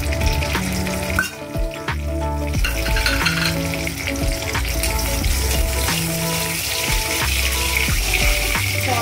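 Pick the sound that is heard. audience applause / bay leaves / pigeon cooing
bay leaves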